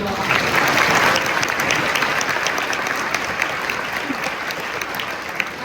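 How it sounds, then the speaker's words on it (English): Sustained applause from a large audience honoring panelists at a university event, dense and steady throughout, fading slightly toward the end with no talk over it. "let's have another round of applause for our panelists"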